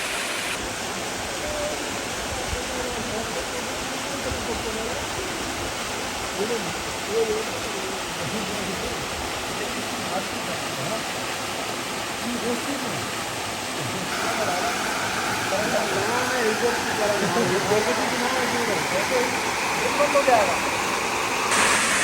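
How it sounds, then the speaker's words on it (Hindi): Dasuk Waterfall in Balochistan's Gaaj Valley pours with a constant broadband roar of falling water, close and loud throughout and swelling in the later half, while someone talks over it. "लेकिन ये है खैर, आबशार मिल गई।"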